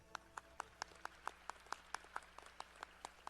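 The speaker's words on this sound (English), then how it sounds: "Let's give a big round of applause to the honorees from the Division of Finance and Administration" Sparse, slow hand clapping from a small group at a morning service recognition ceremony, about a dozen distinct claps in a loose rhythm, quiet and distant with no talk over it.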